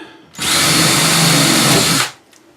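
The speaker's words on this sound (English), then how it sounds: "Needs to drill deeper" A power drill whirs loudly for about two seconds in one continuous burst, close by, drilling into a kitchen cabinet, then stops abruptly.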